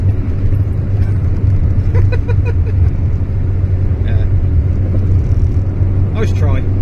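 Interior drone of an Austin Allegro driving over a rough road section: a steady low engine and road rumble with faint knocks, while someone talks over it throughout.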